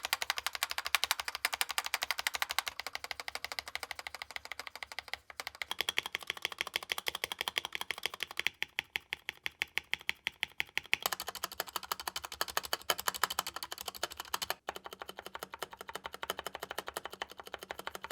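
Fast, steady typing on a K630 mechanical keyboard fitted with Outemu switches and cheap keycaps, a close, bright clatter of keystrokes that comes in bursts with short pauses and has no voices over it.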